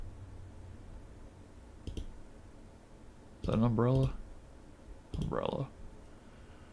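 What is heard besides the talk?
computer mouse clicking while playing a hidden-object game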